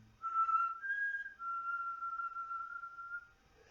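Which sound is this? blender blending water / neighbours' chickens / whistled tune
whistled tune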